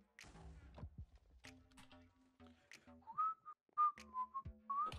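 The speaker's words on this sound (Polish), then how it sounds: "Patrzę, nie gwizdaj!" A person whistles short, wavering tones in a quiet room during a Minecraft game session, several separate phrases among soft taps and thuds, fairly close and faint.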